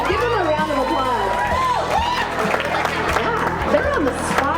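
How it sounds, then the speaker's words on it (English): Audience applause and cheering for girls brought up at a princess runway event, a steady wash of clapping mixed with crowd chatter and voices throughout. "I want to introduce, give them a round of applause"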